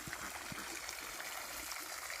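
Water from a newly replaced solar pump on an off-grid homestead in Thailand trickles and flows steadily, a soft, even stream with a few faint low knocks, heard alone with no talking.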